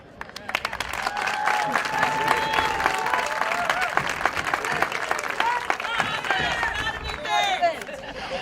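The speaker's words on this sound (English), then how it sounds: "Please join us one last round of applause" A hall of fame induction crowd applauds in a sustained, loud burst of clapping with cheers and crowd babble mixed in, holding steady before tapering slightly at the end.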